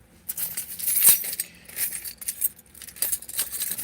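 A bunch of keys jangles and clinks in irregular bursts while someone rummages for them, close and fairly loud, with brief pauses between the shakes.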